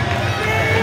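A wrestling crowd at an IHW Unstoppable show grumbles and murmurs in steady, continuous crowd noise, a dense babble of many voices with no clear cheer or chant standing out.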